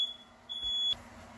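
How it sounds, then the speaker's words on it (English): A fire alarm sounds in a room with steady high-pitched electronic beeps, one short tone and then a longer sustained one, fairly faint and with no talking. "Sorry, fire alarm started to go off."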